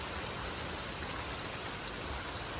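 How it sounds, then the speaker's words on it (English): Steady rain falls outdoors on a working property, a continuous even hiss of broadband patter with no pauses, fairly close and uniform throughout, with no voices. "it's raining outside"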